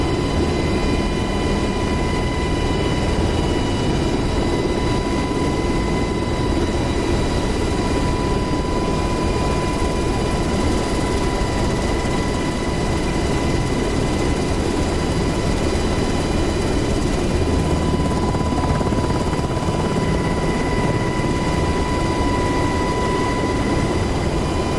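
A UH-60L Black Hawk helicopter in DCS World comes in to land, its engine and rotor making a loud, unbroken roar and whine with steady high tones that hold for the whole stretch.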